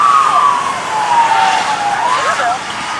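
Police cars, state troopers followed by sheriffs, race past during an upstate New York snowstorm, their sirens wailing loud and close and sweeping down in pitch as they pass, with a rumble of traffic underneath.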